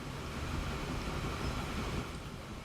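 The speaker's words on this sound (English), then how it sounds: "Here comes this train, still moseying," A train in the video game Transport Fever 2 rolls slowly along the rails, a continuous low rumble with wind-like rushing, steady and alone with no talk.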